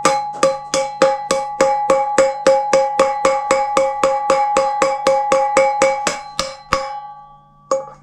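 A socket being hammered to drive a rear wheel bearing into place: a fast, even run of about twenty sharp metallic strikes with a ringing tone, close and loud, then a pause and one last hit.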